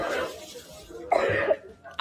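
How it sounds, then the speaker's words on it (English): A woman gives a couple of short, rough coughs, close by, with a quieter breathy sound before them. "Oh, now she's coughing."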